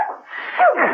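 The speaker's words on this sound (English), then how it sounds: "Mrs. Peel sneezed, lost her grip and shot down the air shaft, arriving with a clump and a sneeze at their feet" A single loud, close sneeze from an adult woman in a radio drama, a short breathy burst that rises and breaks off sharply, heard alone.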